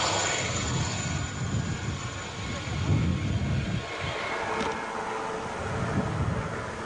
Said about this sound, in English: This helicopter breaks away, goes to the back of the field.